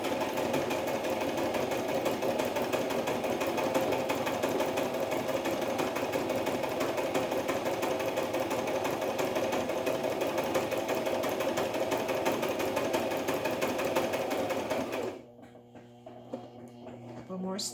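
A sewing machine runs steadily and loudly for about fifteen seconds while stitching a traveler's notebook cover, then stops abruptly, leaving quieter background sounds.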